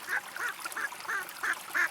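Cartoon ducks quack in a steady rhythm, six evenly spaced nasal quacks at moderate volume, clear with no speech over them.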